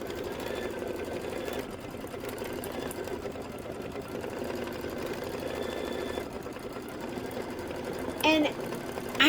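An embroidery sewing machine stitches steadily with a fast, even mechanical whir and close, moderate loudness, while a person talks quietly over it.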